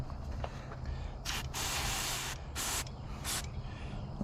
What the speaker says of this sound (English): all that is just a little QC electrical contact cleaner